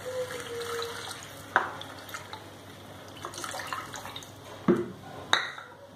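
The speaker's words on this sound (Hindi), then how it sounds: "अब इसमें हम पानी डालेंगे" Water poured from a cup into dry semolina in a cooking pan on the stove, making a steady splashing trickle with a few sharp clinks of the vessel, close and moderately loud with no talking.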